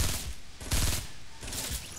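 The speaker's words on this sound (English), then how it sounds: "Semi-automatic burst shots, damn." Semi-automatic AK-47 burst fire in Fortnite Battle Royale: short clusters of close shots, with one burst near the start, a louder burst in the middle and another toward the end, all thick and punchy.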